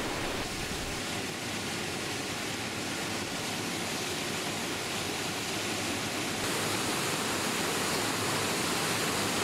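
The Storfossen waterfall surges with a constant broad roar of rushing water, steady and full throughout with no other sounds.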